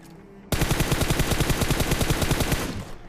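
A rapid burst of automatic fire from an M416 rifle in a video game, loud and close, a fast rhythmic string of shots lasting about two seconds after a short quiet start.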